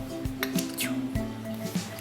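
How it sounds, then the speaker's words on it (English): Soft butter is dropped into a bowl of chocolate icing for lamington fingers, giving a few wet squishy plops and light clinks against the bowl, close and quiet, under a steady low hum. "So I'm going to add our soft butter"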